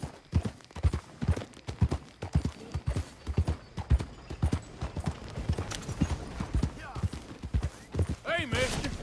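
Horse hooves clip-clopping in the Red Dead Redemption 2 video game, a close, steady rhythmic series of hoofbeats, with a short neigh near the end and a voice talking over them.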